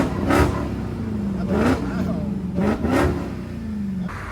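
A Dodge Hellcat fitted with an aftermarket exhaust barks through several quick revs, each a short rising blast settling back to a rumbling idle, with people talking nearby.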